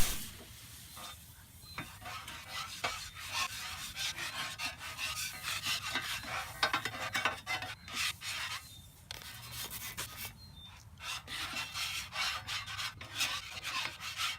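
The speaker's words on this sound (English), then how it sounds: "after a good couple minutes of scraping" Harsh, repeated scraping strokes of a metal scraper across a hot Blackstone 17-inch griddle surface, continuous and close, with a faint sizzle underneath and no talking.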